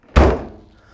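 A Decked truck tool box lid on big hinges shuts with a single solid, close thunk that rings out briefly and decays fast.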